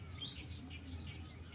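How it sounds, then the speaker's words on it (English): Birds chirp outdoors in short, high, repeated calls, faint and somewhat distant over a steady low background hum. "You hear that birds chirping"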